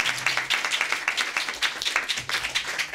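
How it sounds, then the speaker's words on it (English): Audience applause at a press conference, dense uneven clapping from a group with rising and falling bursts, moderately loud and mostly free of talk. "Can you give them one more round of applause?"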